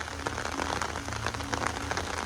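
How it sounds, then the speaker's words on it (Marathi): Steady, dense rain pattering hard on surfaces in a Konkan village, a continuous loud hiss of heavy downpour with no voices. "आयलो परत जोरात पाऊस आयलो"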